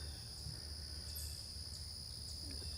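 Buzzing insects or tree frogs outdoors during a fall hike around Davis, a steady high-pitched droning chorus that holds continuously throughout, faint and distant, with occasional faint chirps above it.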